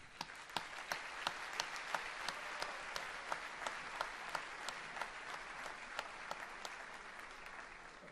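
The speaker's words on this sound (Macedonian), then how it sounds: "Мислам дека всушност и најголемиот аплауз треба да биде за нив." Applause from a concert audience, fairly quiet and distant, with steady crowd clapping and a few sharp individual claps standing out at a regular pace throughout.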